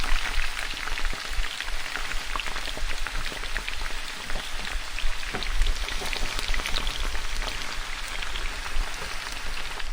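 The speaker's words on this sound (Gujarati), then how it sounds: "હવે જે આપણે સ્ટીમ આપી નાસ્તો બનાવ્યો હતો તે નાખી એકથી બે મિનિટ હલાવી લેશું" Steamed snack tossed in a hot mustard-cumin tempering with asafoetida and curry leaves, giving a steady, dense sizzle and crackle of frying that runs evenly throughout, close and fairly loud, with no talking.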